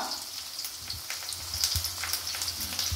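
Chopped onions sauté with green chilies in a pan, a close, continuous sizzle with soft crackles and a few scraping stirs, no voices.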